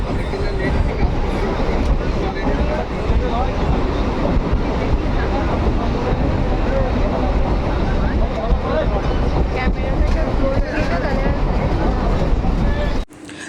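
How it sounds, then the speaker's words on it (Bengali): Steady, loud rumble inside a moving train carriage, with constant rattling and wind-like noise throughout and an abrupt cut near the end. "তারপর ট্রেনে উঠে পড়েছি"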